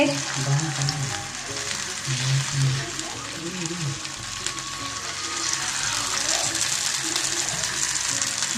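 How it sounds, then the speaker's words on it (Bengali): Fish sizzling steadily in a pan of hot oil, a constant crackling hiss through the whole stretch, with low voices and kitchen sounds underneath. "এখানে মাছ ভাজছে"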